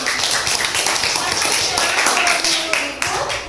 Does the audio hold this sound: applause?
yes